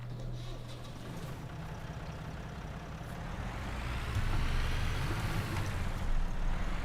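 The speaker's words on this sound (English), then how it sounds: "Let's start the engine, of course." A tractor engine in Farming Simulator 17 starts up and settles into a steady low idle, a constant rumbling drone that grows slightly louder and rougher partway through, heard alone without talk.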